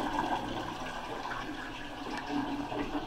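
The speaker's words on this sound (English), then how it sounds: "Here's the antique toilet. It's a Premier." An antique Premier toilet in a hotel suite flushes, a steady gurgling rush of water at moderate, fairly quiet level that continues for several seconds without talk.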